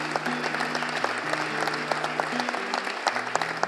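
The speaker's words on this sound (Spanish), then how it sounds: "Por favor, denle un aplauso" An audience at a church parenting conference claps steadily for a few seconds, a full, even patter of many hands over low, sustained background music notes.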